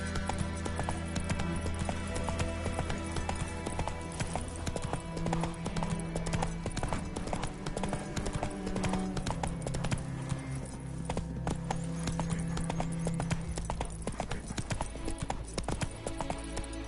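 The horse Roach gallops in The Witcher 3, a continuous rhythmic clip-clop of hooves over a steady musical score, with an occasional faint snort and no voices.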